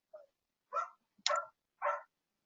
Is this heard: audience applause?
no